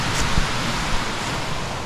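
At the top of Fukuroda Falls in Ibaraki, rushing water makes a loud, steady broadband roar with some wind buffeting the microphone and no voices.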